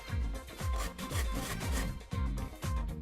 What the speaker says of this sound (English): So let's grate up some of the sweet potato.